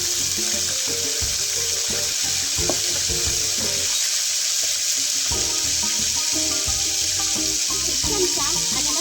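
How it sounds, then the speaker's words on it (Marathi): Cumin seeds sizzle in hot oil, a steady bright frying hiss running throughout, with faint clinks and stirring underneath. "तेलामध्ये थोडंसं जिरं टाकायचं"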